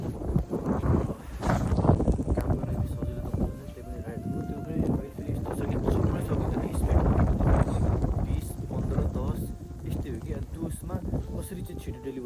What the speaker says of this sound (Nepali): अहिले यस्तो हावा चलेको छ